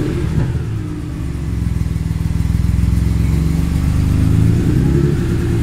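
A BMW E46 M3 engine idles and runs while warming up after a misfire concern, a steady close, loud mechanical drone with a slight rise in level partway through and no talking.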